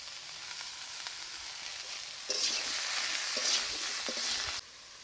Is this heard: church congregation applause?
no